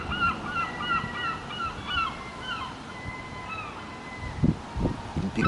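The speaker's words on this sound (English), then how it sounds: "Big seagulls." Large seagulls call repeatedly, giving drawn-out wailing cries that overlap at moderate distance, with a few low thuds near the end.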